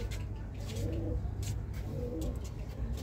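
Pigeons of a domestic breed kept by a fancier coo in soft repeated low phrases, two clear bursts close by, with faint background noise and no talk.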